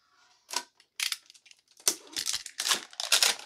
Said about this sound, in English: let's cut these open